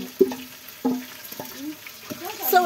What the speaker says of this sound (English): As we continue to stir, to get that crispier look.